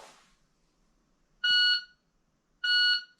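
A Pocket Pro 2 shot timer set to a 1.2 second par gives two clear, loud electronic beeps, each about a third of a second, spaced just over a second apart in an otherwise quiet room.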